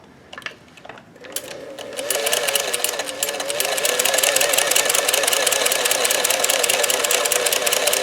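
A Singer 431G sewing machine with a zigzagger attachment set to its widest zigzag starts up after a few handling clicks, then runs steadily with a loud, close, rapid mechanical whir and stitch knock.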